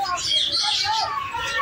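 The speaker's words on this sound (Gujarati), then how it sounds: "અને મોટામાં મોટા પોપટ આવ્યા છે તમને બતાવું." Large parrots in a zoo aviary let out continuous shrill chirps and squawks at mid distance, mixed with faint cooing and a murmur of people's voices in the background.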